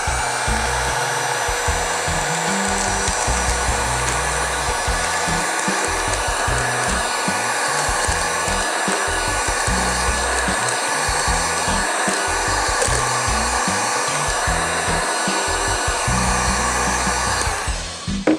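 A heat gun blows hot air onto sublimation shrink wrap wrapped around a mug, a loud continuous whirring blower tone with a fluttering low rumble as it moves, running steadily until it cuts off at the end.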